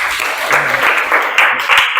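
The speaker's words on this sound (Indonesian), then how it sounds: "Aplaus dulu untuk kita semua" A classroom of students claps together in steady, loud applause, a dense wash of hand claps that carries on throughout without a break.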